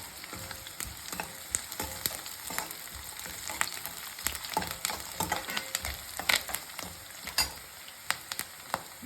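Tomato sizzling in a pan of frying seasoning, a continuous soft crackle broken by frequent sharp pops and spatula clicks, close and moderately quiet with no voices.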